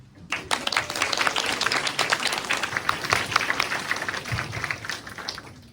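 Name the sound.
audience applause welcoming principal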